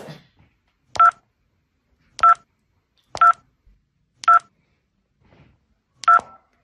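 Mobile phone keypad dialing tones, five short crisp beeps spaced about a second apart in a near-silent room, each a clear dual-pitch tone.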